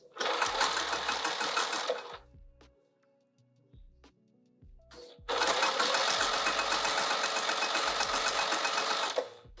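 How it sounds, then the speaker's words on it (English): A sewing machine stitches a fabric pouch in two loud, steady runs of rapid needle clatter, separated by a quieter pause filled with small clicks and handling sounds. "back over to the machine."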